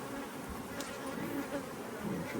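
Honey bees humming steadily around an open hive during a beekeeping class, a dense, even drone close by with no talk over it.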